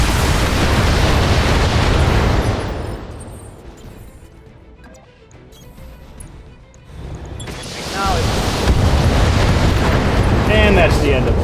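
Mech weapons fire in the BattleTech video game as loud, rumbling blasts and explosions that fade into a quieter stretch, then surge back with heavy booms and sharp bursts.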